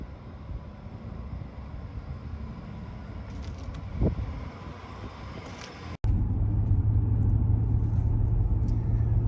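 A 1990 Acura Legend LS coupe with a five-speed manual is driven, heard from inside as a low, steady road and engine rumble; after a brief cut it settles into a constant humming drone.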